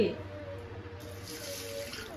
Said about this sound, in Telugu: కొంచెం వాటర్ వేసేసి